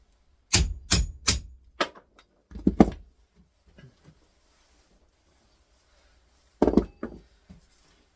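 A hammer drives a punch held in a vise to separate the steel from the aluminium of a scrapped electric motor: a quick burst of sharp, loud metallic blows, a pause, then one more strike after a silence.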